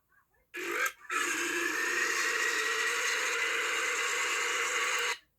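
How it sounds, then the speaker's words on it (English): A single long, drawn-out burp rumbles on steadily for about four and a half seconds after a brief opening gulp, loud and close with no talking over it. "That's like the longest burp ever"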